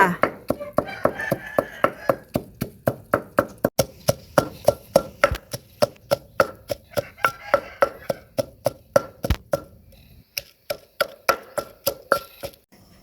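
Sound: pounding chilies in a mortar

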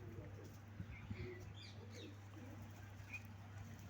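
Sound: pigeons cooing

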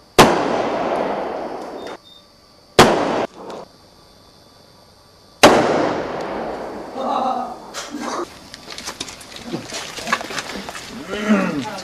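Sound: gunshots fired at bulletproof car

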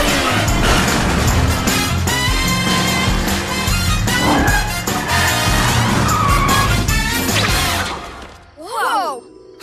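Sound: cartoon Cat Car speeding off with skidding tyres

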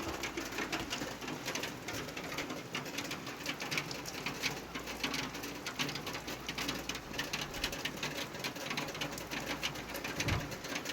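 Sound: rain falling

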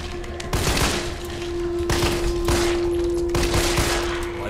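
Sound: G18 pistol fire in video game Resident Evil 3

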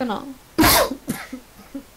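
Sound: cough

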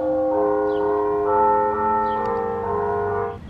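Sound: St. Philip's Church bells ringing in Southport

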